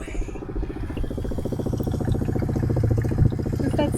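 Engine coolant boiling in a truck's engine bay, a rapid steady bubbling and gurgling patter, close and fairly quiet, growing slightly louder over a few seconds.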